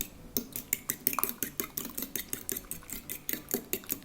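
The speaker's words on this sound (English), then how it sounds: "I'm going to whisk these just a little bit." Rapid rhythmic whisking of a noodle dough mixture of flour and water in a bowl, steady quick taps and scrapes repeating about four times per second, close and fairly quiet.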